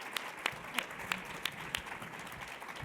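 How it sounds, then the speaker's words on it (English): A conference audience applauds a panel on generative AI ethics, fairly faint clapping with a handful of distinct sharp claps in a loose rhythm over a soft room murmur. "Round of applause for this panel."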